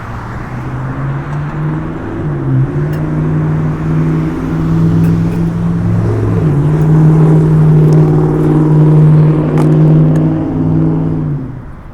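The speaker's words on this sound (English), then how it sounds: "People with loud trucks." Loud truck engines rumble steadily at close range, with revving and a heavy low drone that swells and shifts as traffic passes by.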